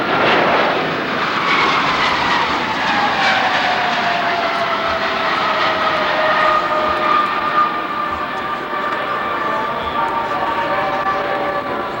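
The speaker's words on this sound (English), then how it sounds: "this is the high-speed pass of the C-5A Galaxy" A C-5A Galaxy jet transport makes a loud, sustained high-speed pass at an air force base airshow, its engine roar rising with a falling whine as the huge aircraft sweeps by.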